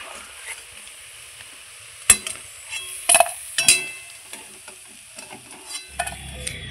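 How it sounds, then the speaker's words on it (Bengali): Fish roe fritters are lifted from hot frying oil in a pan, with a faint background sizzle broken by a few sharp clinks and scrapes of a utensil, and no one speaking. "আমার মাছের ডিমের বড়া ভাজা হয়ে গেছে"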